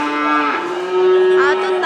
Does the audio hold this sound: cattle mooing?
yes